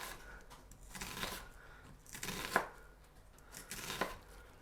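A knife chops food into small cubes on a cutting board during a low-carb Big Mac salad prep, with a handful of sharp, close cuts spaced about a second apart and no one talking.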